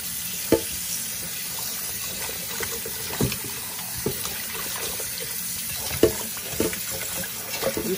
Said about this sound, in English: let's get these one more rinse off